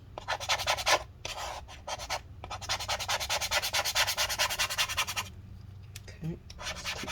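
Steady rhythmic scraping and rubbing with a scraping tool and rubbing alcohol inside a 15-inch Retina MacBook Pro A1398 (Mid 2017) during battery replacement: close, continuous strokes with brief pauses, and a voice speaking briefly.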